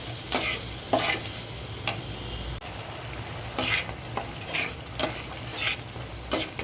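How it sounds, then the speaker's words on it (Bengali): Washed lentils stirred into fried spice paste in a pan, a steady sizzle with repeated scraping strokes of the spoon, close and alone. "ডালটা দুই তিন মিনিট আমি মশলার ভিতরে একটু নেড়ে চেড়ে নিচ্ছি"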